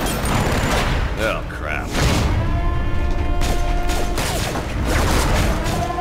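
Gunfire crackles in the Borderlands: The Pre-Sequel shooter on the moon, rapid loud bursts and metallic clanks layered with game music tones, while a voice exclaims briefly over the din.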